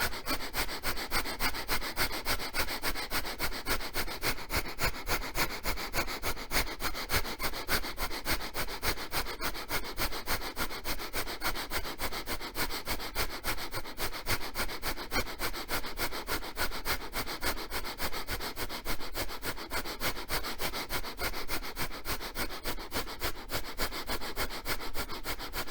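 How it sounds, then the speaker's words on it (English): Rapid rhythmic nasal breath of fire during a kundalini yoga pose, a steady fast pulse of forceful exhalations continuing for the whole stretch, close and even, with no talking. "begin the breath of fire"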